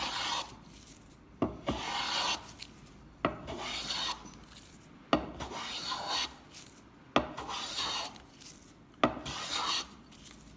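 Cabinet scraper drawn across a wooden board, close rhythmic rasping strokes about every two seconds, each starting with a sharp catch followed by a dry scraping hiss.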